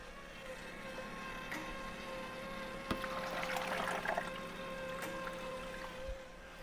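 Water pours and trickles into a countertop ice maker against a steady pump whine, with a brief splashy burst in the middle and faint clicks, fairly close and moderately loud.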